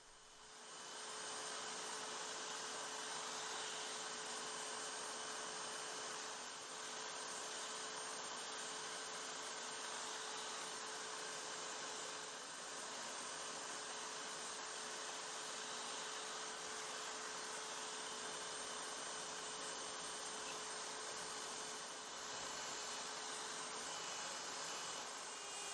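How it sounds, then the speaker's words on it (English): A wire wheel grinds continuously and loudly up close as rusty parts from a 1930 Brunswick Model 15 radio chassis are buffed clean, a steady whirring hum with a faint high whine and no talking. "back to the wire wheel to shine up the parts"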